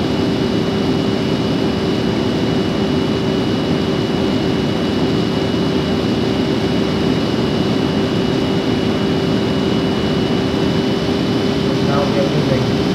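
Airbus A330 jet engines in a flight simulator spool up for taxi, a steady, loud broadband roar with a constant tonal hum that holds evenly throughout, with no voices.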